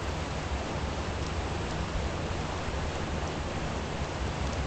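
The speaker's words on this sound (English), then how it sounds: "So all that static type noise you're hearing is actually just the waterfall." A waterfall in the video game Ark Survival roars as a dense, steady static-like rush that fills the whole stretch without pause.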